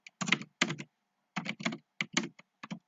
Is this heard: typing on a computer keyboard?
yes